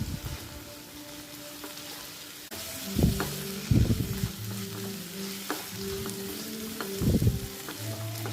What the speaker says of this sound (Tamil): இந்த மஞ்சள் பொடியும் எண்ணெயில் கொஞ்சம் வதங்கட்டும்